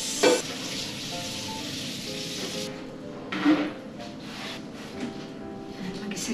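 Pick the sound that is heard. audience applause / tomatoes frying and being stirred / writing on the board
tomatoes frying and being stirred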